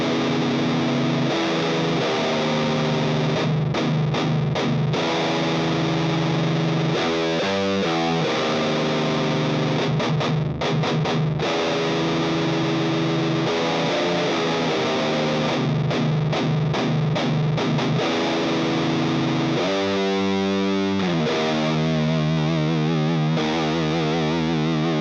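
Heavily distorted electric guitar in a low tuning played through a boosted amp, saturated riffs and single notes, chugging stops and sustained ringing tones, loud and upfront for about twenty-five seconds without speech.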